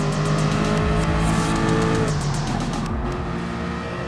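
A McLaren race car in GT Sport laps Monza, its engine revving loud and close with rhythmic gear-shift pulses and a brief tire squeal, no talk over it.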